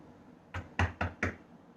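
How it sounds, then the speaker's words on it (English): Four sharp knocks on a door in quick succession, close and fairly quiet, with a short pause after the first. "he heard a knock on the door."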